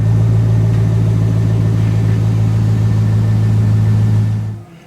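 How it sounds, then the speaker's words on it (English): A C5 Corvette engine idles steadily after an oil change, a loud, close, constant low rumble that runs evenly and then cuts off abruptly near the end. "After we start the engine and let it run for a few minutes"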